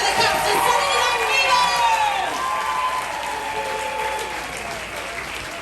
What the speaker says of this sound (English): Put your hands together for the captain